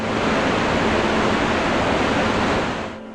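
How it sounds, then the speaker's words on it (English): Iguazu Falls, a waterfall twice the height of Niagara and miles wide, roars in a loud, dense, unbroken wash of rushing water that fills the whole soundscape and drops away only at the very end. "A waterfall twice as tall as Niagara and miles wide"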